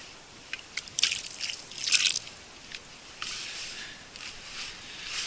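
Water is poured and dribbled into a fishing groundbait mix, deliberately made overly wet for packing into dense balls: scattered close drips and short splashy trickles, then a softer steady flow, with no talking.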